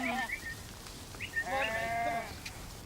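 Sheep bleating on a farm as they are moved in for shearing, several wavering calls at close to middle distance with a faint murmur underneath.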